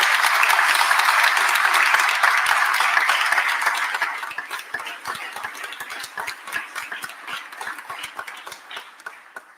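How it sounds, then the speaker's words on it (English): A crowd at the mayor of Philadelphia's speech on the end of the DC 33 strike applauds for labor, dense clapping that thins out after a few seconds into scattered individual claps. "Give labor a round of applause."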